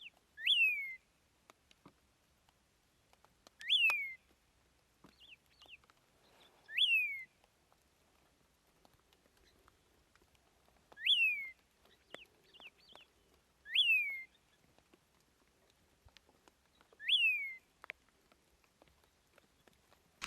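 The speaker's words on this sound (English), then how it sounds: "If you can hear that bird calling off to the right of me" A yellow-throated longclaw repeats a clear, descending whistled call about seven times at regular intervals, crisp against near silence.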